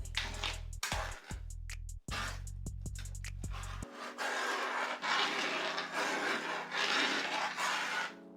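A creamy shrimp pasta sauce stirred in a pan over a low burner, giving steady scraping and rubbing strokes with brief knocks early on, close and continuous with no talking.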